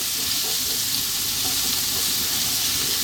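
Garlic frying in a touch of oil until slightly brown, an even close sizzle and crackle that stays dense and steady without a pause.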